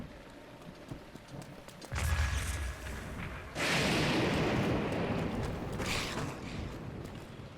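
Bombs exploding in Zelda: Breath of the Wild, two loud broad blasts a couple of seconds apart, the second followed by a long roaring rumble that slowly fades.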